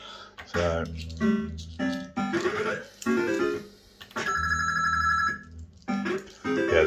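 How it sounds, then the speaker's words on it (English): A Bell-Fruit Cash Force £2-jackpot fruit machine gives out telephone-style ringing bursts mixed with electronic chimes and clicks, loud and close, recurring in short phrases with pauses between. "the telephone is always the predominant sound."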